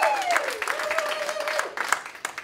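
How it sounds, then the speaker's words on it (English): An audience at a comedy hypnosis show claps in a scattered round of applause, moderate and somewhat distant, while a voice sounds over the start and music plays faintly beneath. "Give them one more round of applause."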